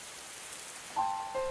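Rain falls in an animated scene as a soft, steady hiss. Bright tonal notes briefly sound over it near the end.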